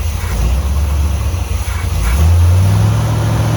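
A C3 car engine cranks and catches after sitting unused for two years, its loud low rumble surging into revving that holds strong and steady, close by.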